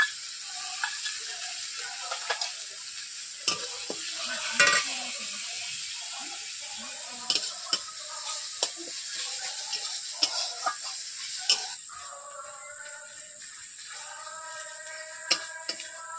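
Ginger and garlic paste frying with browned onions for doi katla makes a soft, even hiss, punctuated now and then by light clicks and knocks of a spatula against the pan.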